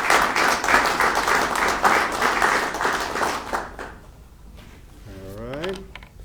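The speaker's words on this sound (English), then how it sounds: "let's give him a round of applause" Applause from an audience at a Nebraska bill signing for rural development, a dense burst of many hands clapping that fades out after a few seconds, followed by a voice.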